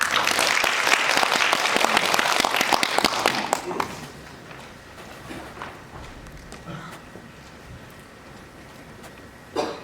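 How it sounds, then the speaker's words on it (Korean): An audience at a Korean consumer-rights forum claps to welcome a speaker: a brisk round of applause that dies away after about four seconds into a quiet hall with scattered small noises. "박수로 환영해 주시기 바랍니다."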